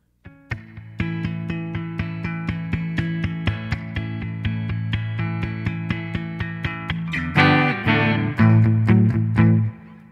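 An electric guitar plays the intro of a song on an A bar chord, strummed in a steady chugging rhythm of repeated chords, building to a fuller ringing passage near the end.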